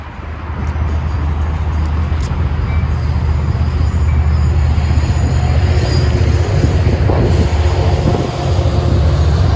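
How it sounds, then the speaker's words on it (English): Metra commuter train on the North line pushed by the Chicago and Northwestern heritage locomotive, a steady loud rumble of passing wheels and engine with faint wheel squeal, continuous throughout. "a train on the North line went in, and this had the Chicago and Northwestern Heritage Unit pushing"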